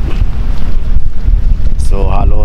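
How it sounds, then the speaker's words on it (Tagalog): Strong habagat monsoon wind buffets a fishing boat at sea, a loud steady roar of wind noise rumbling against the microphone with water churning below, and a voice briefly talking near the end. "ang hangin dito guys sa amin ay habagat"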